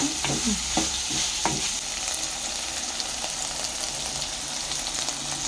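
Okra fries in a pan, a steady broadband sizzle under repeated scraping strokes of a spoon stirring the vegetables, close and fairly loud throughout, with no talking.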